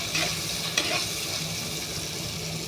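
Kerala fish curry masala with chili powder fries in a pan with a steady, close sizzle, a few clicks of stirring cutting through the hiss.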